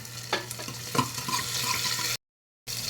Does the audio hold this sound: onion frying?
yes